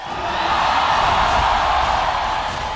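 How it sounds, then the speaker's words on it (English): A large esports crowd roars continuously at the M5 World Championship grand final in Rizal Memorial Coliseum, a dense, loud, sustained wall of cheering with no breaks. "Listen to the crowd."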